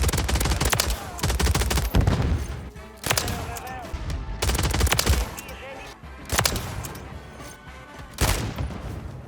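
Repeated loud gunfire from an aftermarket TYR sniper pistol in a video game, with sharp shots at irregular intervals and a voice talking in between.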